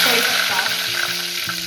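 Cumin seeds crackle and sizzle in hot oil for a Marathi vegetable dish, a steady close hiss with faint stirring pulses underneath, no talking.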